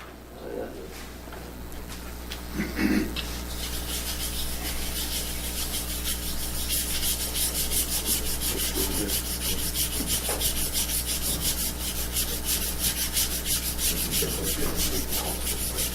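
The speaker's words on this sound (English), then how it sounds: "You should sharpen at figure 8." A woodturning tool is sharpened in a figure-eight motion on a sharpening surface, a continuous close scraping rub with faint rhythmic sweeps, steady throughout, with brief voices in the room.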